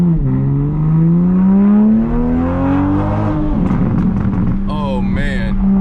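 A Toyota Supra with a Tomei titanium exhaust pulls hard, its engine climbing in a loud rising roar heard up close from inside the car. A voice reacts excitedly near the end.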